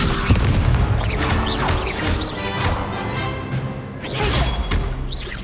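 A Confringo blast spell in Hogwarts Legacy, a loud fiery burst followed by crashing, booming impacts that fill the whole stretch, with a second surge near the end.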